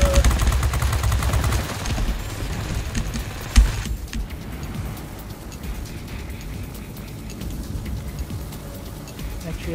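Heavy fighter spaceship guns firing in a video game, a dense rapid stream of gunfire that is loudest in the first four seconds and then continues more thinly under a rumbling engine drone.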